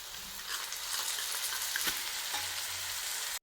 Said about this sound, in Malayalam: ആവശ്യത്തിന് വെള്ളവും കൂടെ അങ്ങ് ഒഴിച്ച് ഒന്ന് കലക്കിയെടുക്കാം